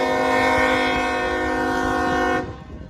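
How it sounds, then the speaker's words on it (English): A CSX freight train at a Lake Avenue crossing in Blasdell, New York sounds a loud, sustained multi-chime horn close by, with rumbling wheels beneath, before the horn cuts off and the rolling rumble carries on alone. "we got another CSX train coming down the line"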